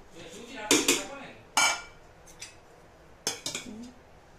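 Rice being served onto plates for a light home lunch, with several sharp metallic clinks and clatters of spoons against dishes in short bursts, close and fairly loud, no talking.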